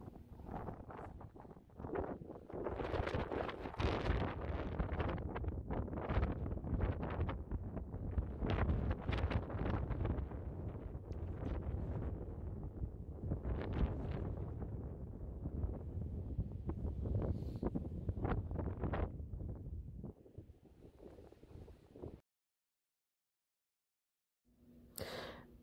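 Strong gusty wind, around 30 mph, buffets the microphone outdoors in a garden bed, a loud roaring rumble rising and falling in surges for about twenty seconds before cutting to near silence.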